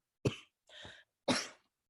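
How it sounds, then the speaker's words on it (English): Three short, close coughs in quick succession, the first and last sharp and the middle one softer and more drawn out. "excuse me, I need to cough."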